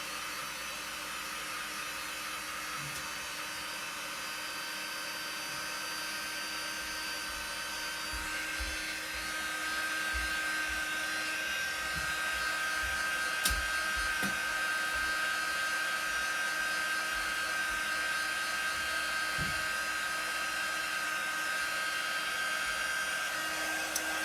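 A handheld heat or hair dryer blows steadily on a Chalk Couture craft project, giving a continuous close, loud whirring hiss that runs the whole time and grows slightly louder partway through, with faint knocks of handling beneath it.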